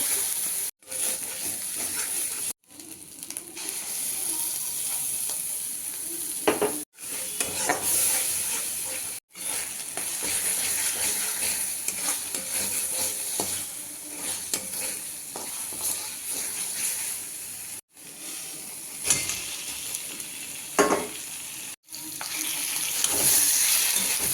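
Ground onion paste with garam masala and whole spices stir-fried in hot white oil, sizzling and hissing steadily up close, with a few brief pauses in the stirring.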